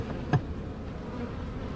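Honeybees at an open long horizontal Langstroth hive during an inspection, a steady close insect hum with one brief louder buzz near the start.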